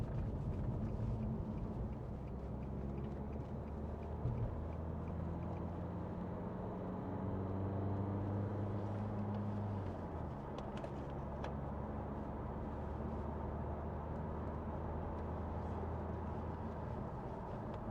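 A 2014 Nissan Juke 1.5 dCi diesel driving, a low steady engine drone with tonal hum under road rumble, pitch dropping and shifting through a smooth gear change, heard from inside the cabin and fairly quiet.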